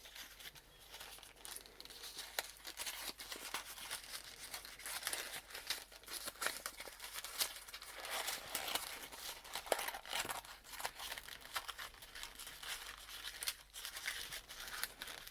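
Paper is crinkled, torn and rearranged for a junk journal in a steady, close, continuous stream of dry rustling and crumpling with no voices.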